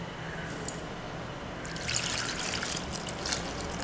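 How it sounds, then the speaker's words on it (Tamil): Water poured from a tumbler into a pressure cooker holding broad beans and moong dal, a soft close trickle that swells into a fuller splashing pour partway through, no voices. "ஒரு டம்ளர் ஜலம் ஊற்றி"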